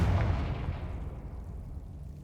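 A Confringo spell explosion in Hogwarts Legacy lands as one close, deep, booming blast that rolls away into a fading rumble.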